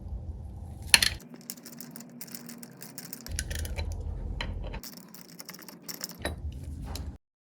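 A Craftsman 3/8 ratchet with a 7/16 socket unscrews bolts on a Mercruiser outdrive. Close metallic clicking comes in bursts, with a sharp clank near the start, and the sound stops abruptly at the end.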